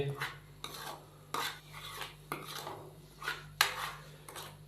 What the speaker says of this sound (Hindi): मसालों को शामिल करने के बाद हम इसको अच्छे से मिक्स करेंगे और मसालों की 2 से 3 मिनट के लिए हम भुनाई कर लेंगे।